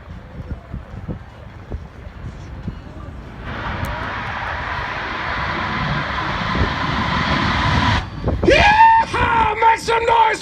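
A jet-powered funny car runs at an outdoor air show, its broad roaring rush building to a loud sustained blast before cutting off, followed by crowd noise and shouting.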